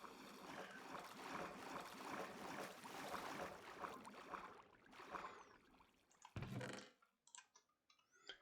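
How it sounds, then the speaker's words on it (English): Water splashes without letup in a Minecraft item elevator, a dense churning wash that breaks up near the end into scattered splashes and gurgles. "With all the splashing noises all the time"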